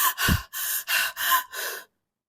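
A woman breathes quickly and audibly, giving five close, breathy exhalations in a steady rhythm that stop suddenly into silence, imitating breath during exertion.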